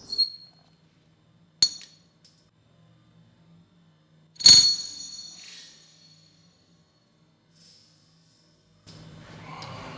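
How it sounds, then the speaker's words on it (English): A large handmade Nixie tube's glass is scraped and cracked open. A few sharp, isolated glassy clinks and cracks ring out close by against near silence, with one louder crack ringing a moment longer before a faint rustle at the end. "I was trying to scrape the glass and crack off the tube"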